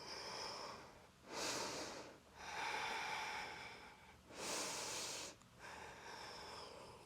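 Heavy, rhythmic breaths during a yoga-inspired core and glutes workout, with four long, forceful exhales or snorts spaced a couple of seconds apart, close and fairly loud over quieter breathing between them.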